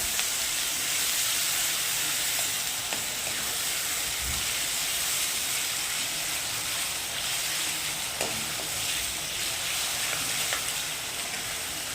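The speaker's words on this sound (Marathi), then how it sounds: "कढीपत्ता त्याच्यातच टाकून द्यायचा आणि टोमॅटो बारीक कापले परतू द्यायचं 2 ते 3 मिनिटाचं छान" Finely chopped tomatoes and curry leaves sauté in a pan for dal tadka, giving a steady, close sizzle and hiss of frying. Occasional stirring scrapes come through and nobody speaks.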